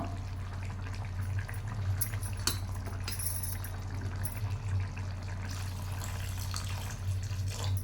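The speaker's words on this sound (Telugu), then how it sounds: "కొద్దిగా వాటర్ వేసుకుందాం" Water pours and splashes into a simmering pot of mutton curry, soft and close, over a low steady hum.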